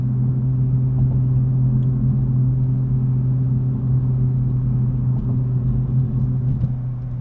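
Steady low drone of a 2022 Lexus IS350 F Sport sedan cruising on the road, a constant engine and road rumble heard from inside the cabin, with no voices.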